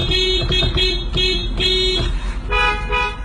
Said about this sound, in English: the driver could honk to signal the traffic light to change